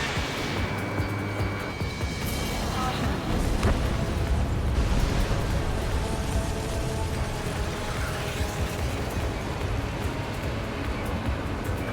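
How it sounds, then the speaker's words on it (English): A missile from an enemy fighter jet in Ace Combat 7 launches and explodes, a dense rumbling roar with jet engine noise and a booming blast swelling midway, continuous and loud throughout. "Bandit fired missile."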